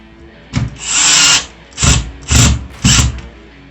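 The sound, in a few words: power drill tightening small screws on Philips smart lock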